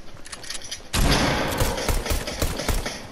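Fortnite gunfire bursts in suddenly after a quiet moment, a loud, rapid string of shots with thumping low-end impacts that keeps going in uneven bursts.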